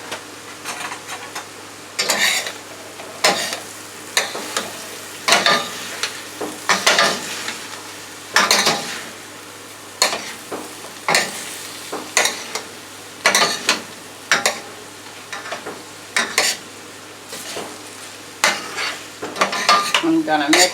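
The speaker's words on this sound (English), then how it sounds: "I'm gonna mix this up really good" Chicken and vegetables stirred in a frying pan, with a spoon scraping in regular rhythmic strokes about once a second over a constant soft sizzle, close and without talk.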